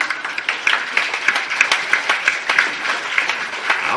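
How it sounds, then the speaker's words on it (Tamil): An audience at a Tamil lecture on the Thirukkural claps in a brisk, fairly even rhythm, the individual claps standing out distinctly as if from a modest group. "நீங்கள் கைதட்டினதுக்கு நன்றி"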